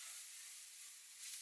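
A soft, steady sizzle of a tablespoon of flour frying in a pan, a faint continuous hiss with no voices.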